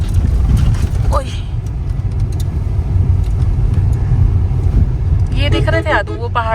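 Cars stuck in traffic near a tunnel in Manali make a continuous low road rumble, with a loud close horn-like tone near the end and people talking over it.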